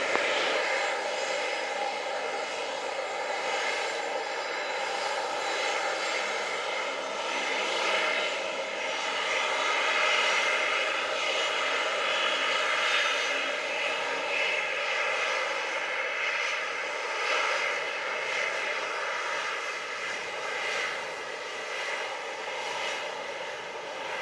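Flair Airlines fixed-wing airliner taking off from runway 07 at Montego Bay, a steady, loud engine roar that holds broadly and evenly for the whole stretch with no talk over it.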